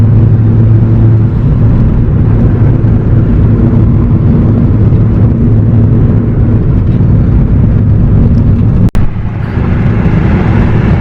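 Hybrid turbo Ford Focus ST engine under a fifth-gear pull, heard from inside the car: a loud, steady engine drone with road noise, a brief sharp knock near the end, and no talk.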